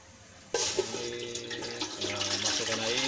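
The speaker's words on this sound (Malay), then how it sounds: "Masukkan air." Tap water gushes into a cooking pot for rice, starting abruptly after a brief quiet moment and running steadily and loudly, with the pitch of the filling water rising as the pot fills.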